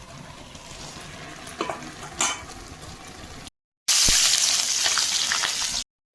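Chopped onion, chili and garlic hit hot oil in a village kitchen, making a steady sizzle with a few stirring clinks. After a brief silence, a louder, fuller burst of frying follows.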